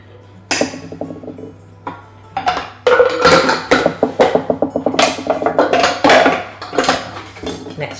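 Mushrooms go into a cooking pot for vegan bolognese amid a busy run of clanks, clinks and knocks of utensils against the pot, loud and close with short pauses between bursts.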